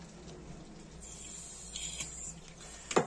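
A Dunhill Rollagas lighter being refilled with gas gives a steady faint hiss and mechanical hum, ending in a sharp click with a short louder spurt near the end.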